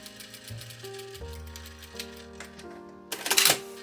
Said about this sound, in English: we'll press the seam allowance up and edge stitch it in place.